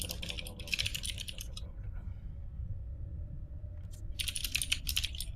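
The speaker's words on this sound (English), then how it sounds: "Is that Mimi's typing?" Rapid clattering keystrokes on a computer keyboard come in two busy bursts separated by a quiet gap, close and steady over a low rumbling background.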